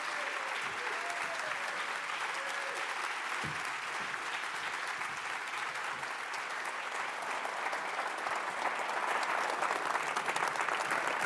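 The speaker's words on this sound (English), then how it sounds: "Do you get that kind of applause every time" An auditorium audience claps loudly and steadily for the whole stretch, a dense continuous wash of applause with no pause and no speech over it.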